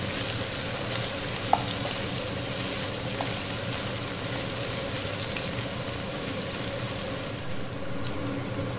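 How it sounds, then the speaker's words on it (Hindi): Raw banana pieces frying in a pan for a spiced dry sabzi, with a constant even sizzle close by and an occasional light tap, no voices. "कुछ देर के लिए इसे दोनों तरफ से फ्राई करना है"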